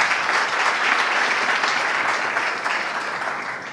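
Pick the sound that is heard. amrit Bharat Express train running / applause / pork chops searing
applause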